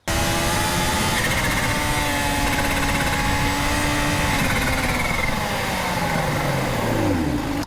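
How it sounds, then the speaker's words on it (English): A Kawasaki Z H2 SE naked motorcycle with a supercharged engine revs loudly and close up, its pitch climbing and dropping through the rev range over several seconds, with supercharger whine on top and no talking. "I wish all combustion engine bikes could sound that good"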